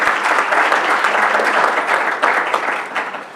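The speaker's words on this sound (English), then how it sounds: "a big round of applause" Steady, dense applause from a crowd at a board of education business meeting, loud and continuous throughout with no talking, tapering slightly at the end.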